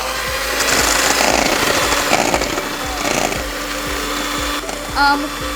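An electric mixer running on its lowest setting whips dalgona coffee, giving a steady, close, loud motor drone with rapid rhythmic beating, then a brief higher whir near the end.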